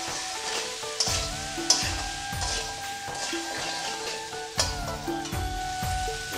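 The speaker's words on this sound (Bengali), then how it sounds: "ভালো করে ভেজে নেব।" Turmeric and cumin powder frying in a pan, a steady sizzle with repeated scraping stir strokes and a few light clinks of the spoon, close and alone without speech.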